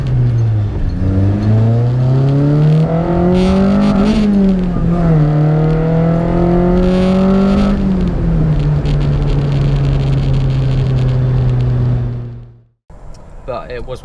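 A first car, owned for about five years, revs its engine up and down in rising and falling sweeps, loud and close, before cutting off sharply near the end and giving way to a brief softer noise.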